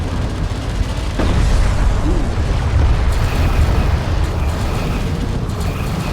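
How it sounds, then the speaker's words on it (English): Attack missile barrage landing in a competitive video game match, a continuous loud rumble of overlapping explosions and booms that holds steady for several seconds, with no clear talking over it. "Attack missile barrage lands as well"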